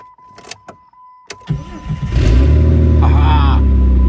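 A 2003 Jeep Laredo with the 4.0L engine and no muffler cranks briefly after a few clicks and catches, settling into a loud, raw, steady idle close by.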